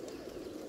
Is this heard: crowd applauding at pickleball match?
no